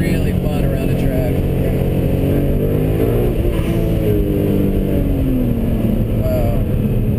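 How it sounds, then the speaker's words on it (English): A BMW E46 M3 fitted with a twin-turbo kit accelerates hard, its engine note climbing loudly and continuously in pitch, as heard from close up inside the car. "Those little turbos come on fast."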